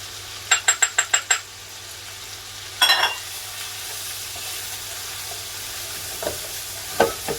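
Coq au vin with herbs and pepper is stirred in a pan, with a quick run of five spoon clinks, a louder scrape, then a soft sizzle and occasional taps.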